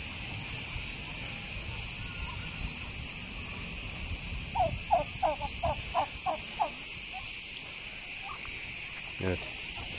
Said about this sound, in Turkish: Ağustos böcekleri görevlerini icra ediyorlar şu an.